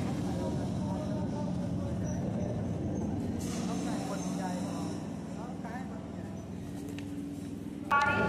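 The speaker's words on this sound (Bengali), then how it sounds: "তো ট্রেন এখন আমাদের ব্যারাকপুর স্টেশন ছেড়ে বেরিয়ে যাচ্ছে।" A local train pulls out of Barrackpore station on the Sealdah–Naihati line, a steady low rumble and rolling carriage noise running throughout beneath people talking, ending with a brief louder clatter.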